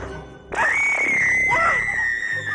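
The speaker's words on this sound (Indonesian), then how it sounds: "Teriakanmu ini bisa menghancurkan gua ini." A loud, piercing scream fills a cave, bursting in suddenly and holding at a high sustained pitch with wavering, echoing overtones before it trails off.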